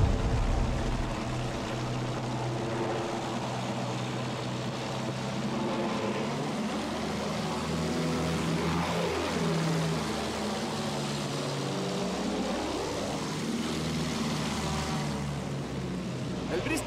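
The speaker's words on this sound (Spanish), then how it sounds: "Se maneja como otros aviones." A World War I propeller airplane in the video game Battlefield 1 drones steadily and loudly throughout, its engine pitch sliding up and down as it maneuvers, with game music and effects layered underneath.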